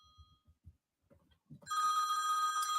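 A mobile phone rings in a house, a bright repeating electronic ringtone that starts suddenly and stays loud after a few soft low knocks and faint murmurs.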